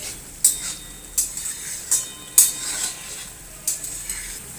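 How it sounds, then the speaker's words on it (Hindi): Green chillies fry with chicken liver in a pan, a low steady sizzle broken by about six sharp scrapes of a spoon stirring at an even pace. "3 से 4 अदद हरी मिर्च ऐड करेंगे और इसे भी फ्राई कर लेंगे।"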